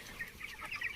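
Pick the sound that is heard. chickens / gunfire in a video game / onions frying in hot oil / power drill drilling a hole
chickens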